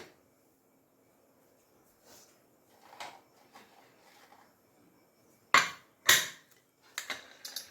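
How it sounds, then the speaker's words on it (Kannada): A pressure cooker lid being closed over a cucumber sambar: faint fumbling, then two sharp metallic clanks in quick succession followed by a few lighter clicks, close by in a quiet kitchen. "ಕುಕ್ಕರ್ ಮುಚ್ಚಳ ಮುಚ್ತಿದ್ದೀನಿ"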